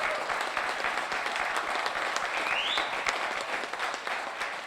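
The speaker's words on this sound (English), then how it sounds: "And round of applause." A pub audience at a Cheltenham racing preview night gives a steady round of applause, dense and continuous for several seconds, with a brief whistle rising through it.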